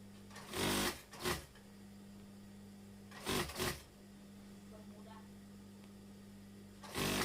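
A sewing machine stitches a Kasumedangan blouse in short bursts, three quick runs of rapid mechanical whirring separated by a steady low hum, with speech under the sound.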